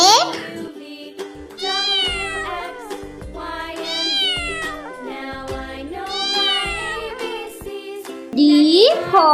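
Cat meowing repeatedly in a rhythmic sequence of distinct rising and falling meows, close and clear, set against a voice and a light musical jingle.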